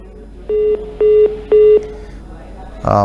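Three evenly spaced electronic phone tones as a call disconnects, each a steady mid-pitched beep about a quarter second long, followed by a short burst of noise.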